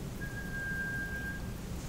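A single clean human whistled tone holds steady for just over a second, faint and alone over a quiet background hiss.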